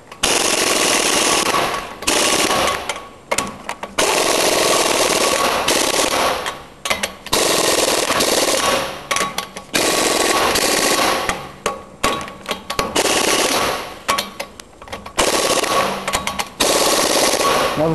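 An air impact gun working the lug nuts on the wheel of a 2011 Ford F-350 single rear wheel truck, loud rattling bursts of hammering several seconds long, separated by brief pauses, close and without talk.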